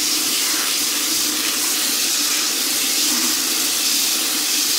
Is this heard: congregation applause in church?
no